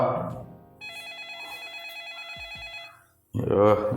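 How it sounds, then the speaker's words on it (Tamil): A telephone rings with a steady electronic trill for a few seconds in a home, sandwiched between bursts of nearby talking. "இவ சும்மா சும்மா ஃபோன் பண்ணிட்டு இருக்கா"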